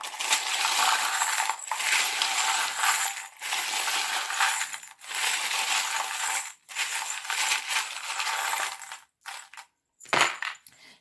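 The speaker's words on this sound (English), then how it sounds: "We have a little bell and it's jingling bell" A small handheld bell jingles in bright, metallic bursts that come and go in uneven pulses, with short silent gaps between shakes, close and fairly loud with no voices.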